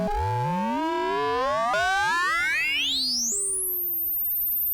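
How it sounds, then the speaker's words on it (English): Verbos Complex Oscillator synthesizer tones being modulated, loud swooping sine-like chirps with bouncing harmonics that sweep steadily upward in pitch until they end in a thin, high, held whistle. "as you move this around, you just get such fascinating and interesting sounds that never seem to repeat each other."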